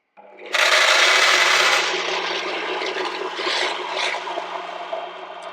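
Roasted coffee beans pour from a home coffee roaster into a small pot aboard a narrowboat, starting abruptly as a loud rushing rattle that eases into a softer, continuing patter, close up with no voices.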